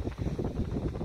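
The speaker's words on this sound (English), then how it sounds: "it's a crazy windy spring day" Gusty wind on a windy spring day buffets the microphone outdoors among red maple trees, a low, rumbling, uneven roar that swells and dips in rapid pulses, with no talking.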